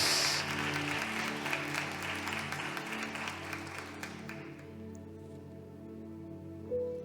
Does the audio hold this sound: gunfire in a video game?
no